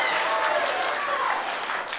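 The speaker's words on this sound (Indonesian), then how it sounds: "Boleh tepuk tangannya, kasih semangatnya kepada seluruh pasangan calon hadirin sekalian" An audience at an Indonesian gubernatorial candidates' debate applauds, a dense, continuous roar of clapping and crowd noise that holds steady at close range, with some voices mixed in.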